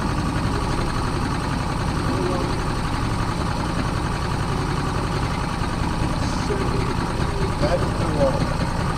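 A Mercury 50 hp outboard motor idles roughly and steadily, a low continuous drone running the whole time, close by, with people talking over it.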